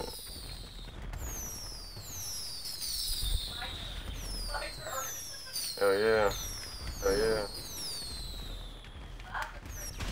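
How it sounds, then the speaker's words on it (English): Fireworks in GTA 5 on the 4th of July: whistling rockets streak past and crackle, with several bursts and fizzing launches in close succession while a man exclaims excitedly over them. "Firework fight!"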